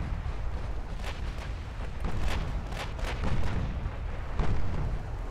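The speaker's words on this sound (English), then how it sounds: "it is a good test to see just how lethal those secondary guns can be" Secondary guns firing on warships in the naval battle game Ultimate Admiral: Dreadnoughts, a rolling series of muffled booms and bursts at irregular intervals, distant and rumbling rather than sharp.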